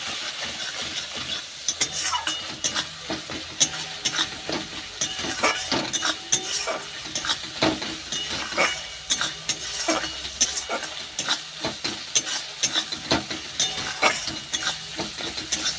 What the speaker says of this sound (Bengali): এইবার ভালো করে একটু সমস্ত মশলা কষিয়ে নেব।